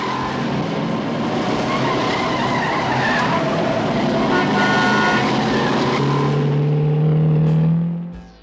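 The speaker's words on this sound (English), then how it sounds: "only the roar of the engine and the echo of tyres against concrete." Car chase from the 1978 film The Driver: a loud, sustained engine roar with tyres screeching hard and echoing off concrete, a rising engine whine building near the end before the sound cuts off abruptly; no music or talk.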